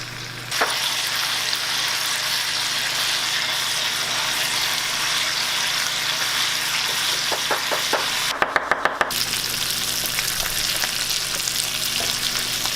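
Vegan steak pan-fries in a hot pan with a loud, continuous sizzle and crackle up close, broken briefly by a quick run of knocks from a utensil or lid.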